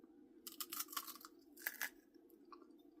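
Homemade sourdough crackers with everything bagel topping crunch between teeth in a few close, crisp bites, followed by quieter chewing in a calm room.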